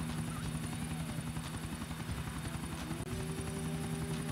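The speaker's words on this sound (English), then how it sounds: "You were on the ride in my helicopter." A helicopter in Grand Theft Auto IV gives a continuous steady rotor thrum and engine buzz, fairly faint and unbroken throughout.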